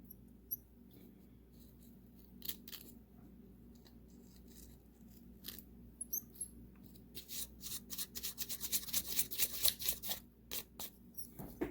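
Scissors snipping hair from a hare's ear for fly tying, a quiet close series of crisp cutting clicks and rubbing, sparse at first then quickening into rapid bursts.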